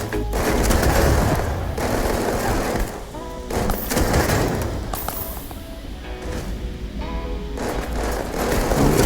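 A Negotiator grenade launcher fires in Starfield amid dense, loud, continuous combat noise, with heavy thumps and clattering layered throughout and no clear pauses.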